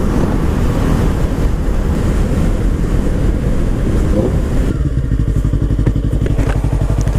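A Ford Mustang rumbles loudly close by, its engine throbbing with wind buffeting the microphone, then settling into a rapid, regular run of crackling exhaust pops near the end.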